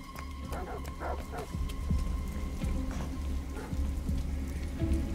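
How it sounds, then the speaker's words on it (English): Dogs barking in the video game Detroit: Become Human, a run of sharp barks spaced through the clip over a steady background of rain and ambient hum. "there were dogs over here to the left, so let's let's see if we can quiet them down somehow"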